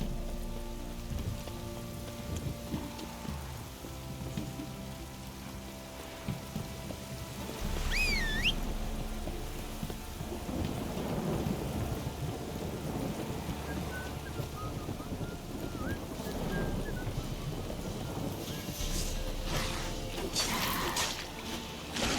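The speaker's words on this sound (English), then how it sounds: "This downpour's a bastard, it is." Steady rain falls through a downpour in The Witcher 3 video game, a constant wash of drops under game music, with a brief whooshing swell and clopping horse hooves mixed in; no thunder stands out.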